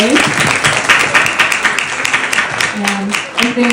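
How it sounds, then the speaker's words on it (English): A big round of applause from an audience for panelists at an AI and fashion talk, steady crowd clapping with a few voices and brief tones mixed in underneath. "Can we have a big round of applause for our panelists today?"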